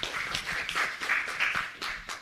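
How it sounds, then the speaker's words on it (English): Conference audience applause for five presenters at a technology event: a modest, fairly thin round of clapping heard from a distance, with individual claps distinguishable and an uneven, fluttering rhythm. "Let's give them a big round of applause."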